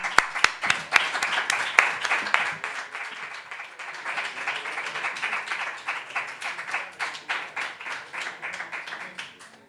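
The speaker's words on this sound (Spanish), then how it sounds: "Un fuerte aplauso" An audience at a flamenco lecture applauds a guest speaker, with loud, fairly sparse individual claps that settle into a rhythmic, near-unison clapping pattern before fading at the end.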